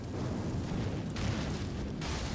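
Explosions in the Elden Ring video game, a dense, continuous rumbling roar of blasts with sharp bright bursts breaking through, loud and sustained with no talking.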